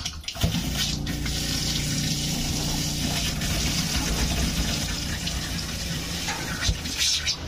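Water rushing through a newly installed plumbing valve on a hot-water line, a steady loud gushing flow with a sputtering start, continuous throughout without talk.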